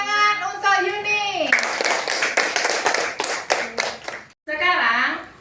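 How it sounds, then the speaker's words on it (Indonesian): A classroom of schoolchildren claps together in a short burst of fairly rhythmic, close hand claps, with a teacher talking before and after. "Tepuk tangan untuk Yuni."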